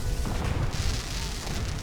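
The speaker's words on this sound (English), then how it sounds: "Fireworks." Fireworks going off at Nuka World in Fallout 4, a steady rumble of low booms and crackling bursts that keeps going without a break and carries no speech.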